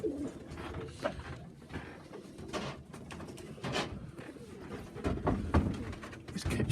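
Young pigeons let out of a loft coo repeatedly in soft, rhythmic bursts close by, mixed with light scuffling and wing or perch noises.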